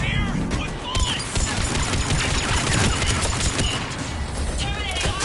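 Sniper rifle fire from a Mass Effect 3 Citadel DLC battle, dense with repeated gunshots and impacts mixed into busy combat noise, with voices talking over the steady, loud action.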